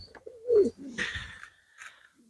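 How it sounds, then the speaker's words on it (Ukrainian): Pigeons cooing in a pair at a rural dovecote, a few soft throaty coos close by with brief chirps, no talking. "Ось такі голуби."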